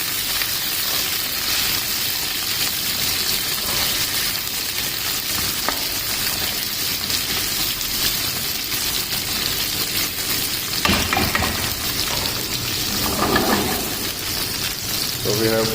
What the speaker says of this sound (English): So I already slice our capsicum and have to saute our capsicum.